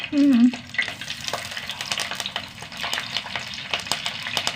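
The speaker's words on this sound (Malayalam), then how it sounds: "രണ്ട് തട്ട് കറിവേപ്പില ഇട്ട് കൊടുക്കാം ആദ്യം എണ്ണയ്ക്ക് കറിവേപ്പില" Curry leaves and a piece of ginger drop into hot coconut oil, setting off a close, steady crackling sizzle that follows a brief tonal sound at the start.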